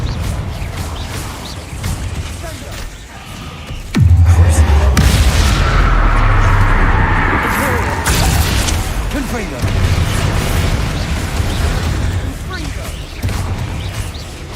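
A Confringo blasting spell in Hogwarts Legacy goes off with a sudden loud boom and crashing burst, followed by rumbling and further impacts, with someone speaking over the game sounds.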